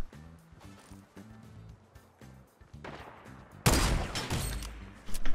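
Rapid bursts of gunfire in a Fortnite Battle Royale match, with light clustered shots early followed by a loud, dense volley in the last second and a half, close and sharp over game background sounds.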